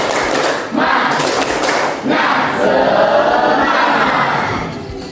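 A high school physics class joins in a rhythmic spirit clap with shouted chanting, a loud mix of group claps and voices filling the room for several seconds.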